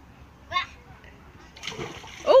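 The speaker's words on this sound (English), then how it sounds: "We're doing a water bomb challenge" Water bombs burst and splash in an open park at a child's birthday outing, two short wet splatters about a second apart, with children's voices close by.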